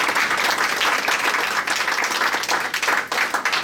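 An audience claps in sustained, dense applause at a community event, steady and loud throughout with no pauses.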